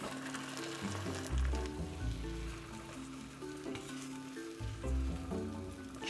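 Eggs scrambling in a frying pan, a soft continuous sizzle with scraping spatula strokes pushing the eggs around, a few louder thumps of the pan, faint and close, no talk.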